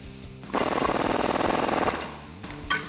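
Impact wrench hammering on a Jeep Gladiator JT control arm bolt during a spacer lift install: one loud, rapid rattling burst of about a second and a half, close by, followed by a brief clank.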